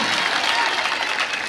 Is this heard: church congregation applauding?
yes